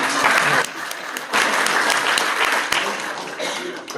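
Loud audience applause at a poetry recital by the Urdu poet Dr. Nawaz Deobandi in Meerut: dense, close crowd clapping that breaks off briefly, then swells again and carries on steadily.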